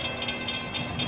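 A CSX freight train led by an ET44AH locomotive rolls past in downtown Micro, a close steady rumble with rhythmic wheel clicks over the rails and no voices.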